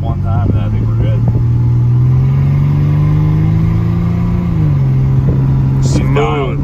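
A Ford Ranger pickup's engine revving as it shifts into four-wheel drive: a steady mid-pitched drone that rises gradually, then drops and settles, with people talking over it near the start and end.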